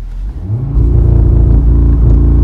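A 2018 Audi RS3 engine rumbles low, then swells into a loud, sustained rev as the throttle opens, heard close from inside the car with a steady, heavy drone.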